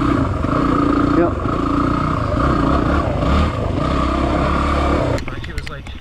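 A motorcycle rides through mud, its engine droning steadily and loud and close, then shifting in pitch and breaking into rougher, choppier bursts near the end as the rider changes gear.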